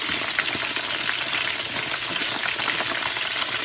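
Food sizzling steadily in a pan as it cooks, a dense continuous crackle with scattered pops, close and moderately loud, with no talking.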